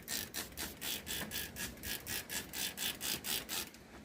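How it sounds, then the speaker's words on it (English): Rhythmic wet sanding of cured resin with a sanding pad at fine grit, about a dozen steady back-and-forth strokes, close and soft, with no talk. "Do some wet and dry sanding."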